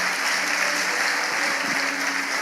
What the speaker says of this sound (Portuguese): Alguém aplauda Jesus aí se você está crendo.